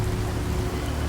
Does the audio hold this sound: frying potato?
no